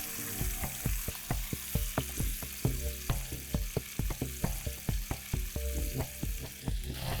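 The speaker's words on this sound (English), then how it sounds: "The fish is pan seared" Mackerel pieces pan-seared in hot oil, crackling and spitting in a rapid, regular series of sharp pops over a continuous sizzle, close and fairly loud, with no voices.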